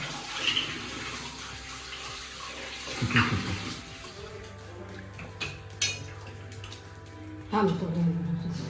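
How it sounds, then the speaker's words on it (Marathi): Water runs steadily from a tap, with clinks of dishes and muffled voices talking nearby. "हडे पाणी भरूचं काम चालू असा"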